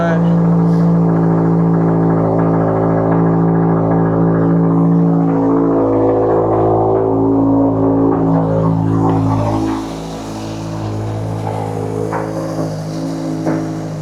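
A 2025 Subaru WRX fitted with a Perren low-profile intake return nozzle runs close by, its engine holding a loud, steady humming drone that drops to a quieter idle in the last few seconds.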